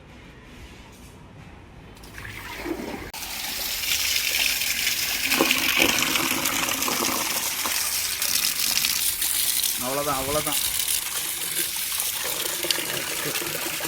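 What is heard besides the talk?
water being poured out of a home fish tank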